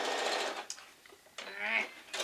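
A sewing machine stitches a quilt block seam in two short runs of quick, whirring needle strokes, close and steady, with a brief pause between them.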